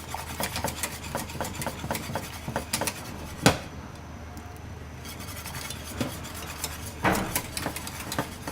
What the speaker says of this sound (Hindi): अब इसको विस्क से अच्छी तरह घुमा मिला लेंगे ताकि इसमें कोई लम्स ना बने।